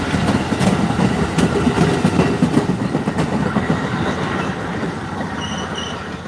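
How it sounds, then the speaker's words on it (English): Train rumbling past on the tracks in Louisa, Virginia, loud and close, with rhythmic clickety-clack of wheels over rail joints and a brief thin wheel squeal near the end, no voices. "This awesome train right here."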